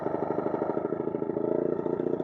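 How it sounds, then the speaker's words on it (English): A Titan SpeeFlo PowrLiner 850 line striper's small engine runs close and loud, a steady, pulsing, clattering drone that climbs slightly as it revs up, with no talk. "The engine will start revving up"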